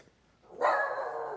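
A single dog barks once, close and fairly loud, after a brief quiet moment, with a slight tail ringing after it.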